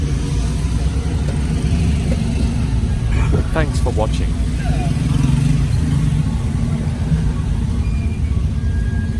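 Road traffic in the Shah Alam market street, with car and motorcycle engines idling and revving as a steady, close rumble, and a horn-like tonal burst standing out briefly midway while someone talks over the noise.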